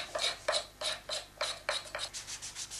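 A thin sheet of glass scrapes across a wooden surface in a craftsman's workshop, giving about ten steady, rasping strokes in an even back-and-forth rhythm, close and fairly loud, with no talking.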